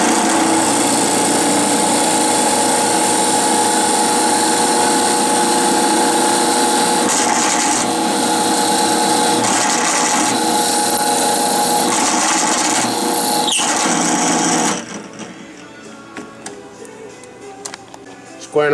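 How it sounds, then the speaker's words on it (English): An olive wood pen blank on a brass tube has its ends squared off with a power tool, giving a loud, continuous grinding whir that stays steady with small shifts before cutting out, leaving faint workshop noise. "Now we're going to go ahead and square the ends of this one off."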